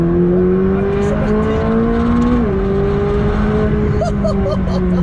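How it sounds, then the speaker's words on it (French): Sports car on the road, either a Ferrari 488 Pista or a McLaren 600LT, accelerating hard in second gear from about 50 km/h, its engine note close and loud, climbing steadily with a brief dip midway as someone talks over it. "On va refaire une petite relance. On est à plus ou moins 50 km/h, deuxième vitesse."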